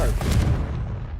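A Confringo explosive spell in the game Hogwarts Legacy goes off as a single heavy boom with a rumbling low-end tail, loud and close, fading over about a second.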